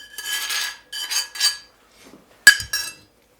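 Metal spoon stirring beeswax into a herbal oil ointment, with repeated soft scraping sweeps followed by a sharp clink against the container and a short rattle, close and clear with no talk.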